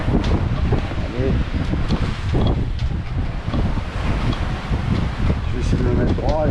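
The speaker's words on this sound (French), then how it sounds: "Et qu'il y a des très grosses rafales." Strong wind gusts buffet a heeling sailboat at sea, a loud continuous roar of wind noise swelling and easing, with someone speaking over it.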